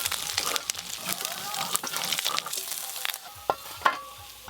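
Small river fish fry in a pan with an uneven crackling sizzle, close and moderately loud, with sharp pops and spatters and a few louder bursts toward the end.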